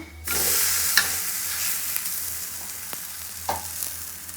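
Akki rotti, a rice flour flatbread, fries in a pan with a continuous close sizzle that starts abruptly and then settles into a softer hiss, with a few faint clinks and no voices.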